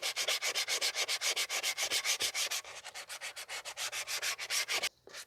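The rear brake shoes from a 2015 Toyota Sienna 3.5 V6 are sanded by hand in rapid, even back-and-forth strokes, loud and close, with a brief pause near the end.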